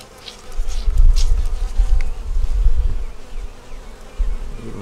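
Honeybees buzz at a hive, a dense, close, continuous hum that swells and fades, with a few louder individual buzzes passing nearby.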